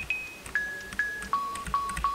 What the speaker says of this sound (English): And then some old Memphis type bells.